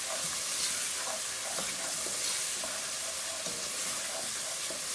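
Salted onions fry on the highest heat of a stove in a thin cast iron pot, a loud, steady hiss and sizzle with periodic scraping stirs, close up and without talk.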